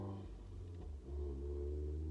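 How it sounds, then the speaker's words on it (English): A car engine revs hard, a brief near roar that dips for a moment before climbing back to a loud, sustained throaty drone. "Okay, buddy, rev your engine one more time."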